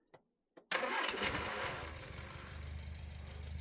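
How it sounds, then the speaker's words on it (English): A 1974 Ford Escort RS Mexico engine cranks with two short starter bursts, then catches at once and roars up loudly before settling into a steady, rumbling idle nearby. "Fires up first time."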